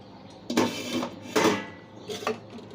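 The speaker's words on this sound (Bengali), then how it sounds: "এবার ঢাকনাটা খুলে দেখব কেমন হয়েছে" A lid is lifted off a pot of cooking khichuri, with a few close metallic clanks and scrapes in quick succession and no voices.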